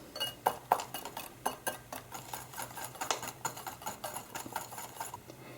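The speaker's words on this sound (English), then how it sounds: "Just go and whisk that together." A whisk clicks rapidly against a bowl while powdery body dust ingredients are mixed, a close, steady train of light metallic taps.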